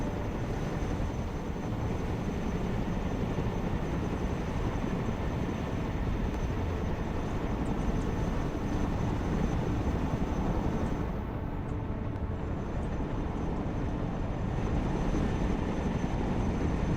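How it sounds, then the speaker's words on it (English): Helicopters in the military strategy video game Broken Arrow make a loud, steady, continuous roar of rotor and engine noise that fills the whole stretch without letting up, with no speech over it. "Helicopters are impressive machines. Boy, are they noisy."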